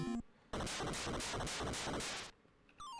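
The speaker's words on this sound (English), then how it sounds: "What a dramatic explosion." In Zelda II: The Adventure of Link, an 8-bit boss explosion erupts as a rapid run of harsh, noisy bursts lasting under two seconds, framed by short chiptune tones before and after.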